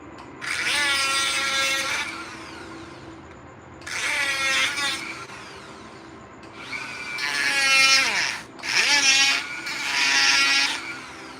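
Dremel rotary tool whirring in five separate bursts, each speeding up and slowing down under foot-pedal control, close and fairly loud with short pauses between.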